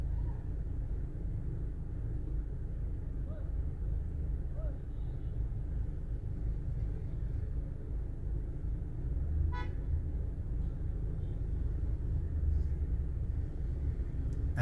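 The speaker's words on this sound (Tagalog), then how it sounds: "Dami na talaga ng mga kotse." Busy city street traffic in Ortigas Center, Mandaluyong, a steady low rumble of cars with a few faint, scattered horn toots, heard at a distance without speech.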